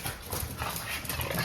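Young Boston terrier puppies in a playpen, heard as close scrabbling, panting and small whimpers that run on busily throughout, with no talk over them.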